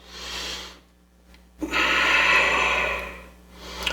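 A yoga instructor's long, audible inhale through the nose during a vinyasa flow, close and breathy, preceded by a shorter breath and a brief pause, with no speech.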